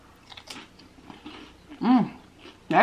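Someone bites and chews crunchy seafood such as oysters or crab at close range during a mukbang. Irregular crunches are broken by short vocal sounds.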